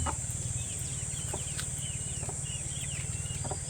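Soft clucking from a hen mixed with high peeping chirps of chicks, over a constant low mechanical hum.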